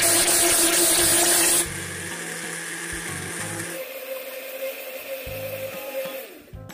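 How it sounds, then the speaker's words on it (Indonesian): An electric blender whirring as it blends avocado juice with ice, a loud motor drone that drops to a lower, steadier hum partway through, with no voices. "Setelah itu kita blender sampai halus."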